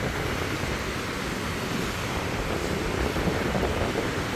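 Stormy waves and gusting wind on Lake Peipus during an approaching thunderstorm, a steady broadband roar of surf and wind buffeting the microphone, loud and continuous with no voices.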